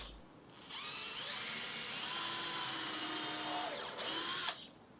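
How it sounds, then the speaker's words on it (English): A power drill whines steadily for about three seconds, its pitch rising as it bites into an old, dry wooden deck joist, then stops after a brief final burst; close and loud. "so I'm pre-drilling it to avoid splitting."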